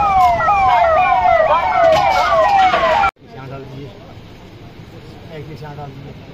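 Ambulance siren wailing loud and close at a power station mock drill, its rising and falling tone cycling for about three seconds before cutting off abruptly, leaving a quieter murmur of voices and background activity.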